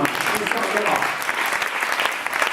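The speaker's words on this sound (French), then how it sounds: "On peut les applaudir." An audience at a trophy awards ceremony claps in a brisk, continuous round of applause, with murmuring voices under the clapping.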